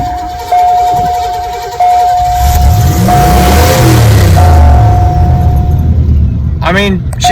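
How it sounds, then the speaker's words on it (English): A car engine cranking and catching after the gas pedal is pumped, a loud nearby rumble that builds into a rough running idle, with a steady chime tone beeping over it at the start. "It takes a little bit, but she starts up."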